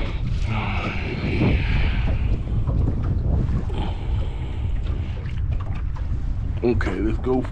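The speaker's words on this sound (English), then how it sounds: "It's real windy on this side." Strong gusting wind buffets the microphone continuously, a low roaring rumble with faint voices and water sounds underneath.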